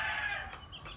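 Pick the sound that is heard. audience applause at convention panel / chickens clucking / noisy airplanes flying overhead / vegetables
chickens clucking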